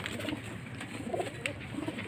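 Pigeons coo softly in a loft housing both healthy and sick birds, low murmuring calls overlapping in a continuous gentle burble at close range, with no talking.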